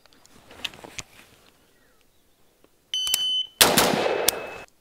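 A pink MU-15 AR-15 rifle fires a quick string of loud, close shots, with sharp electronic beeps around them and faint, scattered sounds before.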